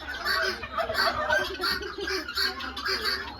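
Guinea fowl calling on a fowl farm in Udon, a dense chorus of harsh, repeated clucking cries overlapping at close range with no pause, mixed with other poultry.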